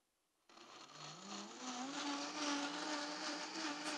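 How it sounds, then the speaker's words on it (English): A blender whirs steadily while blending homemade cashew cheese, starting abruptly and its pitch climbing as the motor spins up, then holding a loud, continuous drone with no talking. "bear with me here while I turn this blender on for a few minutes"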